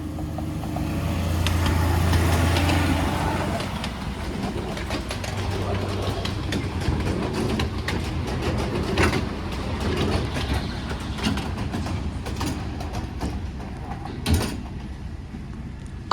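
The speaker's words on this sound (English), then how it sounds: "Here comes the train again." A miniature railway train runs past on its track, a steady rumble of wheels and running gear that stays fairly loud throughout, with a sharper clatter near the end.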